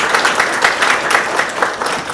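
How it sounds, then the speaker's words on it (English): City council meeting audience applauding rodeo ambassadors, a dense, even burst of many hands clapping, loud and close, steady for about two seconds. "If everybody give these ladies a round of applause"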